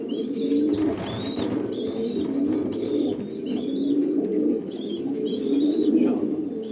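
Pigeons coo in repeated deep, throaty rolls, close and steady, with higher chirps from young birds mixed in.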